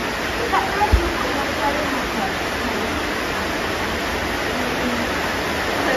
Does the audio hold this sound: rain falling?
yes